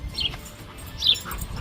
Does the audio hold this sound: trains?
no